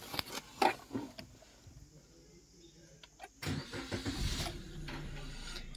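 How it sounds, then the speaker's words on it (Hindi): A car's engine cranks and fires up, with a short starter whir followed by the motor catching and settling into a close, steady idle; the vehicle has a check-engine light and a speed sensor fault. "मैं आपको स्टार्ट करके दिखाता हूँ गाड़ी।"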